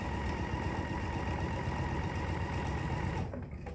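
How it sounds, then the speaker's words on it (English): A sewing machine stitches white fabric for a tissue tote, its needle whirring in a fast, even, continuous run up close, stopping abruptly near the end and leaving only quiet room tone. "So I'm just going to sew 1/8 of an inch away from that slit on the one side."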